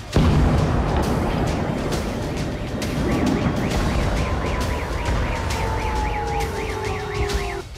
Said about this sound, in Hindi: बेलगोरोद के शेबेकिनो में कई धमाकों की आवाज सुनी गई